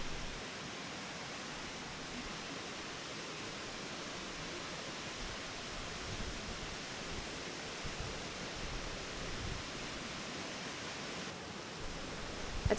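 Schoolhouse Falls, a small 20-foot waterfall plunging into a big pool, gives a steady, even rushing hiss with no break, moderately faint and constant throughout.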